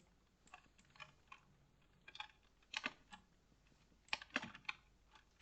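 Bursts of clicky typing on a computer keyboard, quiet and close, with irregular clusters of keystrokes and short pauses between them, no voices.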